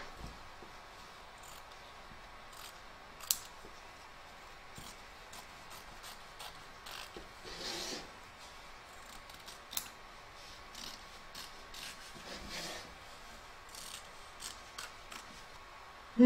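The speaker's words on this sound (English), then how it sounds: "You're now going to trim away the excess fabric from both front and back of your hoop." Scissors snip away excess appliqué fabric around an embroidery hoop for a large sloth appliqué, giving a few sparse, quiet cuts with mechanical clicks over a low background hiss.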